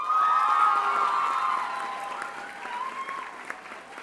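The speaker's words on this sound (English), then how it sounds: "This is the first graduate, so you have to give a loud applause for Araslav Brelin" A graduation ceremony audience gives a warm burst of applause and cheering that swells at once and slowly fades over a few seconds.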